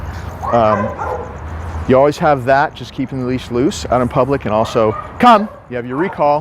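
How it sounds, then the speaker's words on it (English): Dogs at nearby facilities bark and yip in short bursts beneath steady close talking during on-leash walking practice, the barking fairly clear against the voice. "You can hear the dogs barking from the other facilities over here"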